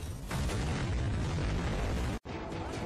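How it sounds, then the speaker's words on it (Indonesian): A helicopter blows up in an action scene from the 2018 Hindi film Baaghi 2, a loud sustained rumbling blast that fills nearly three seconds, cut briefly by a sharp dropout before the roar resumes. "heli tersebut ditembaki dari bawah oleh anak buah Ajay hingga membuatnya meledak"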